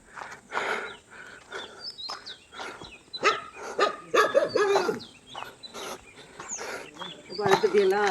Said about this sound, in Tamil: இந்த நாய்ங்க தான் பார்த்தா ரொம்ப பயமாக இருக்குது. இவ்வளோ நாய் வளர்த்திருக்காங்க.